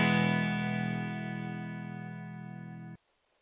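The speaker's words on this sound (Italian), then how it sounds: "Questo è il suono del mio ampli clean." A single electric guitar chord rings through a clean Dumble-style amplifier, sustaining smoothly and slowly fading for about three seconds before cutting off abruptly into silence.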